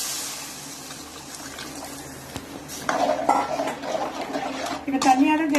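Tamarind water is poured into a pan of spice powder for puliyodharai mix, a liquid splash and sizzle rising after about three seconds with metal clinks of a utensil against the pan, a voice talking over it.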